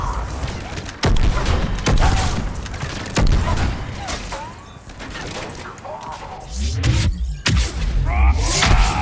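Gunfire erupts in Mass Effect 3 during a modded PC assault on Omega, sharp repeated bursts and booms ringing out amid game effects, with voices and radio-like chatter mixed in.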